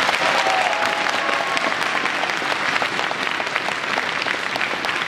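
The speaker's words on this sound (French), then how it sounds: "Vous pouvez les applaudir." An audience at a martial arts show in Versailles claps steadily and loudly for several seconds, a dense, even applause after a children's Vietnamese kung fu demonstration, with no voices standing out.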